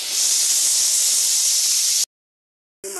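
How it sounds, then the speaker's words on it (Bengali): Fish heads sizzle in hot oil in a wok, a loud continuous hiss that cuts off abruptly, then resumes briefly. "মাথাগুলি ভাজা হচ্ছে।"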